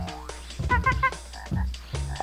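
Frogs croak in the Nintendo 64 game Glover 64, a run of several loud, close, rubbery croaks in quick irregular bursts, with no talk.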